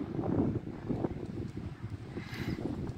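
Wind rumbles across the microphone outdoors beside a Chrysler 180 car, a low, uneven blustery buffeting that persists throughout at moderate level.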